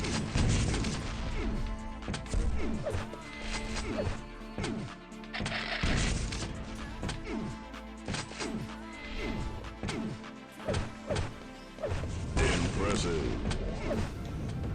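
Rocket launcher blasts in Quake Live repeat in quick, punchy bursts with loud booming impacts, layered with other weapon fire and constant commentary voices over a busy competitive match.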